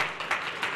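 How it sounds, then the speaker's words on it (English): A church congregation in a sanctuary claps hands in praise: a brief, dense burst of clapping that swells in a few rhythmic waves. "Let's give the Lord a mighty hand clap of praise."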